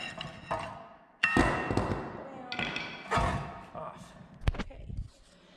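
A brake caliper on a Datsun 240Z is worked off with a small pry bar, giving a series of irregular close metallic thuds and knocks with a sharp clank near the end.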